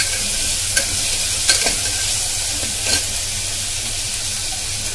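Tomatoes with salt sautéing in a pan for mutton kulambu produce a constant close sizzle with a few sharp scrapes and clinks of a stirring spoon, and no talking.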